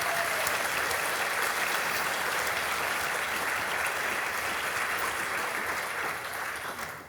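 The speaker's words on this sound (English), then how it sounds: "I'd just like to take a moment for a round of applause for Alexandra Boychik" A live show audience in Iowa City breaks into dense, sustained applause, a full, loud roar of many hands that holds steady before easing off at the very end.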